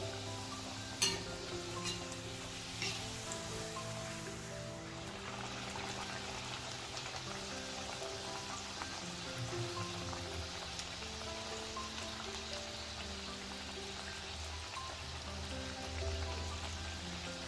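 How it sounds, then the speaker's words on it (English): Dal pakwan dough frying in hot oil on a low flame, a steady soft bubbling sizzle running continuously throughout with faint scattered pops, with a low background hum, no speech. "fry this on low flame on both the sides until it becomes light golden brown"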